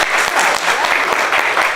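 An improv comedy show audience applauds to vote for a game, a short, dense burst of clapping from the crowd.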